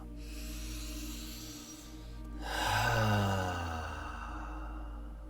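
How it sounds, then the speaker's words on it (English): A deep breath drawn in during breathwork, then released as a long, breathy open "ha" exhale that swells and fades, close and quiet with no talk. "let's take a big deep breath and let a ha sound out on the exhale"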